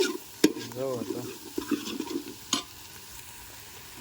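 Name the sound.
tempering onion and garlic sizzling for urad dal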